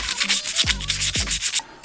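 Sandpaper rubs back and forth over a smooth, shiny surface to rough it up, in a steady run of close, brisk scratchy strokes with no talking.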